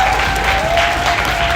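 An audience at an Austrian integration bee competition applauds a finalist, a brief burst of dense, even clapping that fills the room.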